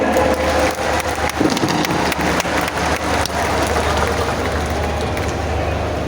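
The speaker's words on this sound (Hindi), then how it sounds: "एक बार जोरदार तालियां बजाएंगे" A large crowd at a tribal gathering on the Red Fort grounds in Delhi applauds loudly, a dense, steady wash of clapping that holds throughout with voices mixed in.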